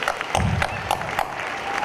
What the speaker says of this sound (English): I also want to give them a little round of applause for all they do.